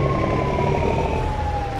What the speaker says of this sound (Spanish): Me prende la sirena.